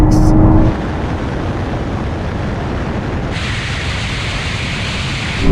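Audi RS cars, among them an R8, RS e-tron GT, RS3, RS6, RSQ8 and RS5, accelerating hard in a drag race, heard as a loud, even rushing roar that shifts in tone partway through.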